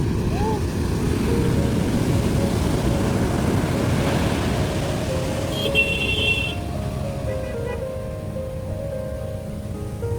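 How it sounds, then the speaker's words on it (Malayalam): Sea waves breaking on the shore make a steady, broad roar that runs the whole stretch, loud and near, with a brief high tone partway through and faint background sounds. "കൊള്ളാം കടല്"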